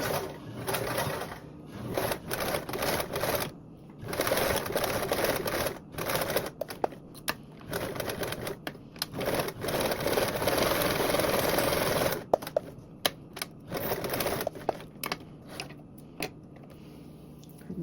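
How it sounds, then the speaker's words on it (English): Sewing machine top stitching around the perimeter of a blanket backpack, a rapid mechanical needle chatter running in bursts with short pauses between runs, close and loud. "we're going to top stitch around the perimeter with a 1/8 seam allowance"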